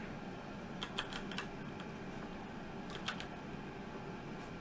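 Typing on a computer keyboard in a quiet room, two short clusters of light, quick key clicks separated by a pause, heard alone over a low steady background.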